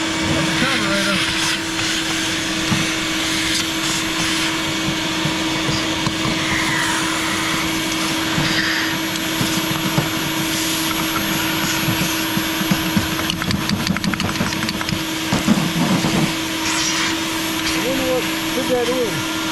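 A shop vacuum cleaner sucks up debris that came out of the carburetor of an abandoned 1964 Ford Fairlane. The drone and steady whine run throughout, with shifting rattles as the debris is drawn in, and voices talk over it.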